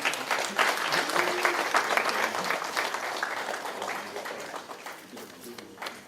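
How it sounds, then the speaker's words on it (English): An audience applauding at a book launch, dense clapping that starts loud and gradually fades, with a few voices mixed in toward the end. "we have another round of applause, ladies and gentlemen?"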